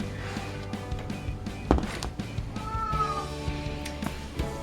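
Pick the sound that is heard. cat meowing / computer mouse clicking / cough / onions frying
cat meowing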